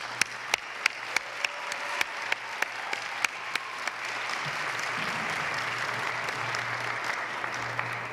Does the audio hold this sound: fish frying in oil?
no